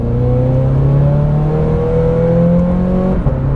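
A supercharged, modified 2017 Toyota 86 with a 2-liter four-cylinder pulls hard, engine note climbing steadily and loudly from inside the car before easing off at the end.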